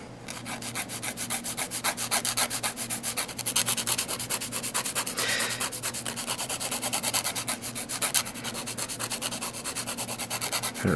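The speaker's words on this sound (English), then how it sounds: "I'm going to come in with a 180 grit, 100 grit file, and I'm just going to file these side walls." Hand filing of acrylic nail side walls with a 180/100 grit file during a salon acrylic set, a steady rapid rasping scrape of repeated close strokes running continuously throughout.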